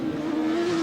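A rotary-engined 750cc racing motorcycle at Cadwell Park in 1992 passes with a brief, steady, loud engine whine of under a second.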